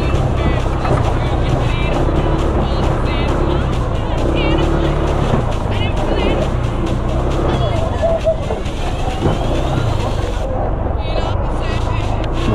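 A motorcycle ridden along a muddy road, its steady engine drone running the whole time beneath near-continuous talk.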